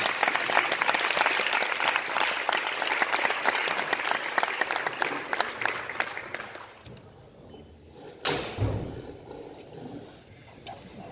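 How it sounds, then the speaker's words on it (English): A press conference crowd applauds the new world boxing champion: dense clapping for several seconds that thins and fades out, followed by a sharp thump and quieter room noise. "a round of applause for the new world champion"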